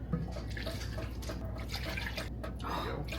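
Cold water poured steadily while preparing apple pie filling for canning; a continuous, close splashing and trickling stream with no speech over it.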